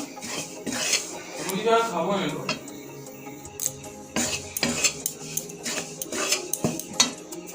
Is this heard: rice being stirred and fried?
yes